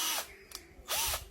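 A Dewalt 26V cordless drill whirs in two short bursts, each rising and falling in speed, with a faint click between them and no talking.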